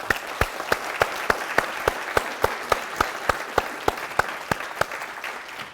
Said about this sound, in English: give her a round of applause for her cooperation